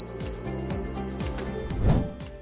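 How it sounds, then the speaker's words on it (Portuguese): A Sonic Compact Maxx ultrasound unit sounds its end-of-treatment alarm, a series of short, evenly spaced electronic beeps over a steady high tone, fairly faint, with a brief low thump near the end. "o equipamento interrompe a dose automaticamente e o alarme indica que a aplicação terminou."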